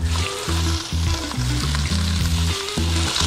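Walleye fillet blackening in a very hot pan, a loud continuous sizzle up close, layered over a low pulsing tonal hum, no voices present.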